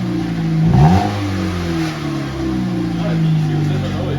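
A Nissan Micra K11 project car revs through its exhaust, the engine note rising and falling in a loud, close, droning burst, with people talking alongside.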